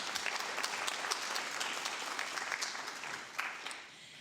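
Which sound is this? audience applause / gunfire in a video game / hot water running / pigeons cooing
audience applause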